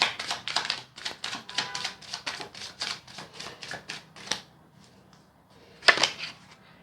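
Tarot cards shuffled in a rapid run of crisp riffling snaps for about four seconds, then a pause and one sharp final flick, close and fairly loud with no talk.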